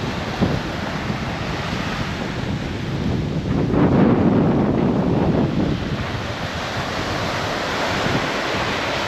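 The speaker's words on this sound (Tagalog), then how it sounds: "Kahit malakas yung hangin." Strong coastal wind roars and buffets the microphone continuously, with surf washing underneath and a gust swelling midway, on a beach with driftwood at the Bangui wind farm.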